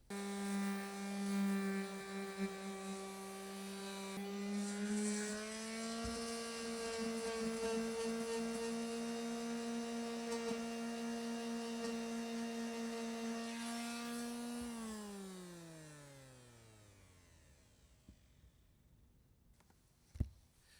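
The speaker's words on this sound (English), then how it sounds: "quick little montage of me doing some sanding and whatnot" A power sander works on a Gheenoe boat hull, its motor giving a loud, steady, high whine. Near the end it spins down and fades almost to silence, followed by a sharp click.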